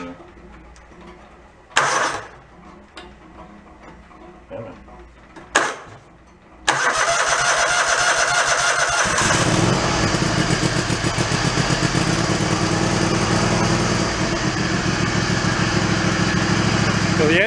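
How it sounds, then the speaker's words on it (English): Lawn mower engine that had stopped running is cranked with a couple of short pulls, then catches and runs loud and steady at a constant drone for the rest of the clip, with faint birdsong in the quiet moments before starting. "Let me go jump that starter. It should stay running."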